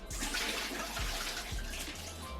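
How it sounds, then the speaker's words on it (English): Water from boiled Chinese longevity birthday noodles pours and drains steadily through a strainer into a sink, a close, continuous gushing splash with a few low thuds. "once this is done, we're just gonna strain it out"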